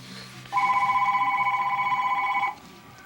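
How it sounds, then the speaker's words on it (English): A telephone rings once with a steady two-tone electronic trill lasting about two seconds, clear and close over a quiet room where a thin clear coat is being applied. "Looks like we're going to get away with answering the phone here."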